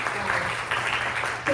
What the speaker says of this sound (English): a big round of applause for Mary